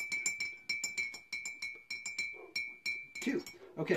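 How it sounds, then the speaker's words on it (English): A spoon stirs Irish coffee in a glass, ringing out in quick, rhythmic clinks, a dozen or so close strikes with a bright sustained tone, before a voice speaks briefly at the end. "You need to stir it 32 times"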